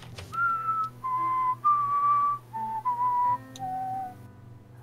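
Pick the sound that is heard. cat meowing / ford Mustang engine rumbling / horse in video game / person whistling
person whistling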